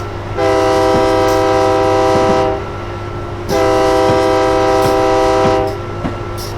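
A train in a zombie-apocalypse driving game sounds two long, loud horn blasts, each about two seconds, over a steady low engine rumble with faint clanks between them.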